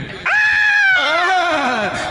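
A sharp, loud scream of fright, one sustained shriek that wavers and bends downward, alone with no talk around it.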